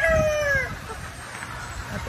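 A Lemon 84 Yellow Legs gamefowl rooster crows once, close and clear, its call falling away after under a second, with a low murmur of voices in the background.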